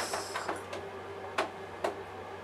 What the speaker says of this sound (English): And then we're going to gradually, slowly, just stitch around.